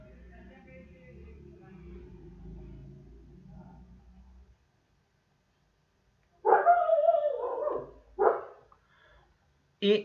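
A dog barks in short bursts, loud and close, after several seconds of low background hum and quiet noise during an indoor physics class.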